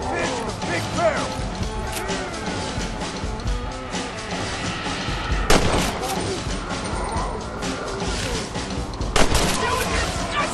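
Gunshots ring out against the undead in Red Dead Redemption: Undead Nightmare, several sharp loud cracks spaced apart over a busy, cluttered background, with someone talking at times.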